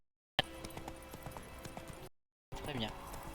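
Horse hooves clip-clop steadily in The Witcher, regular light thuds at a walking pace, briefly cut off, with a voice talking over them.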